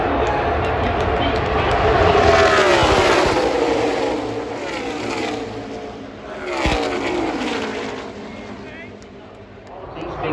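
NASCAR stock cars racing at Talladega Superspeedway, a loud sustained engine roar with passing surges rising and falling, heard under a commentator's talk.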